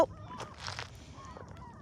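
Geese honk faintly in the distance somewhere in Wyoming. A few soft calls are scattered over quiet background noise.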